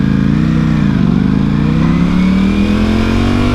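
A Corvette's V8 engine revs loudly and steadily up close, its pitch climbing continuously through the whole stretch, with no talking over it.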